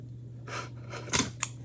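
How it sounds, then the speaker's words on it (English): Scissors snipping thread on a Halloween bead craft, two quick crisp cuts close to the mic over a steady low hum. "So let's snip it."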